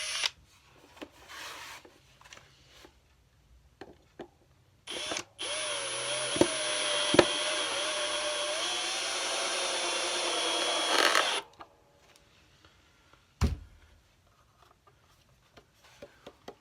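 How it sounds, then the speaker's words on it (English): A power driver sinks a screw into a cigar box guitar, one continuous whirring run of about six seconds with a rising pitch, set between quiet handling clicks and taps. "After those pilot holes have been drilled, get the screw, put it in, and then carefully"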